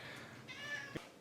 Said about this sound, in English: So if you hear meowing,